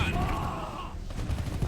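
Gunfire in a real-time strategy video game, a dense rattle of weapon shots under the game's noisy battle sounds, with a voice speaking briefly.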